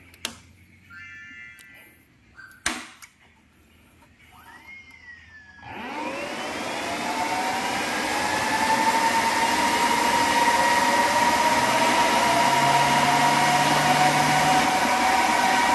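A 3000 W FM stereo transmitter is switched on and starts running: after a few faint clicks and a short quiet stretch, a loud, steady broadband whoosh, like a cooling blower, swells in and holds with a faint hum underneath.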